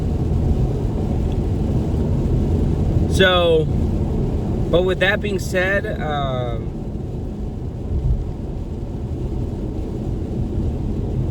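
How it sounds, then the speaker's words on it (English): Heavy rain driven by wind makes a constant, dense hiss and rumble. Someone talks briefly over it partway through. "If you can hear the rain, it's raining very hard right now."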